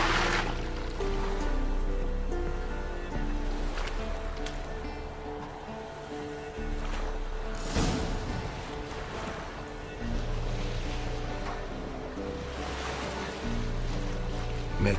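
A boat crosses a lake in The Witcher 3: Wild Hunt, with continuous sloshing water and a low rumbling wash that swells and eases over the crossing, broken by a few sharper splashes and no speech.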